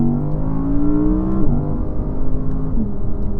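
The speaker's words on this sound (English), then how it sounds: "It's a naturally aspirated engine, so you're going to need the higher rev range in it to kind of get the kick" Naturally aspirated supercar engine revs up hard in a single sustained pull, its rising harmonic tone climbing steadily with a brief shift-like dip midway, loud and close with no talking.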